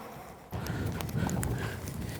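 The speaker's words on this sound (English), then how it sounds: "Do you like that horse, Geoff?" Horse hooves move over ground during a riding session, giving soft, irregular thuds under a steady outdoor rumble. They are fairly close but not loud.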